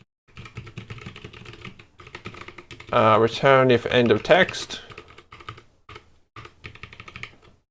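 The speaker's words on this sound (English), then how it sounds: "My keyboard is not sitting flat on the table, and it is annoying me. Because every time I type, it goes up and down." Rapid clicking keystrokes on a wobbly computer keyboard that is not sitting flat on a table, continuous and close, with someone talking over much of the typing.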